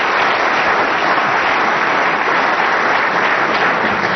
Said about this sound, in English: Nice round of applause from Peter Ebden, but Peter knows that he wa